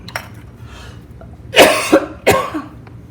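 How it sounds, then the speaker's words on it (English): Two or three harsh coughs in quick succession, loud and close, after a moment of near silence. "Not sure why I am coughing right now."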